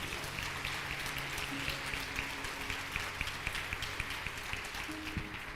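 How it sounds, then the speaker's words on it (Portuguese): Church congregation applauding the Lord during a Portuguese-language service: steady, fairly faint clapping from many people in a reverberant hall. "Você pode aplaudir ao Senhor mais uma vez?"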